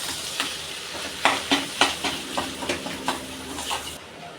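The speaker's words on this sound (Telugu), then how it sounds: "కొద్దిగా పసుపు ఒక స్పూన్ కారం వేసుకున్నాను బాగా కలుపుకున్నాను" A spoon scrapes and stirs turmeric and chili powder through a potato samosa filling in a pan, giving a string of distinct close scraping strokes over a faint steady sizzle.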